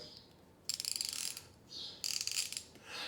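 A flex head ratchet clicks rapidly in two loud bursts, with faint bird chirps in the quiet gaps between them.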